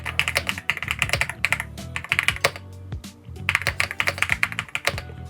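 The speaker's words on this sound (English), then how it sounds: "This beautiful creamy feeling of these keys, it feels absolutely amazing." Typing on a Rapoo V700DIY-98 keyboard with soft, creamy-sounding keys: rapid clusters of muted keystrokes in close bursts, with a brief pause midway before the steady clacking resumes.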